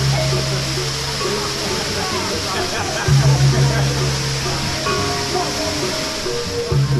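Kanto Lampo Waterfall and its river pour in a steady, loud broadband roar of falling and rushing water, close by and continuous, with a low droning undertone that swells partway through.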